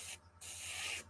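Spray paint hisses from a can around a patch in two close, steady bursts, a short one followed by a longer one, with no talking.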